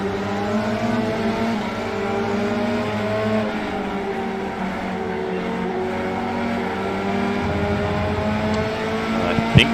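An F3 car engine with a Mercedes power unit in the iRacing video game, a steady high-revving whine with shifting pitch and gear changes, close and continuous, with a brief knock near the end.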